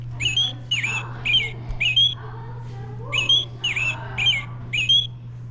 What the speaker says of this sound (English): Barn owl?